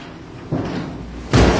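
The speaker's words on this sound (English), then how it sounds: "I have to lower the door automatically." A garage door is pulled down by hand, giving a low rumbling slide that ends in a louder thud as it comes down, close and fairly loud with no talk.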